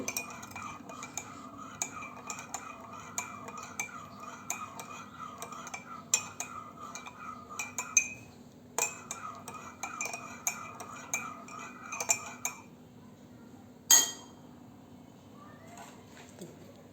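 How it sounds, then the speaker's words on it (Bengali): A spoon stirs sugar into a cup of tea, giving a rapid, regular series of light clinks against the cup that continues for several seconds, pauses, and then ends with a few sharper taps. "আমারটা যেহেতু চিনিওয়ালা, একটু চিনিটা নেড়ে নিচ্ছি"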